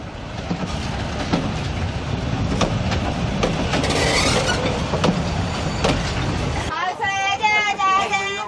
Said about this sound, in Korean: 덜컹덜컹 기차 소리가 너무나 정겹습니다.